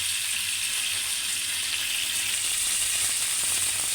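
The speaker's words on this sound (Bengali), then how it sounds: "আমার মাছ ভাজা কমপ্লিট" A whole tilapia fries in a pan of hot oil, giving a steady, loud, close sizzle that holds without a break.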